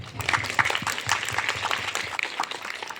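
Audience at an inter-school drawing and debate event applauds to welcome a judge, a dense crowd clapping steadily for about three seconds with faint voices mixed in.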